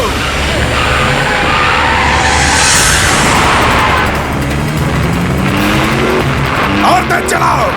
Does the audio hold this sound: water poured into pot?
no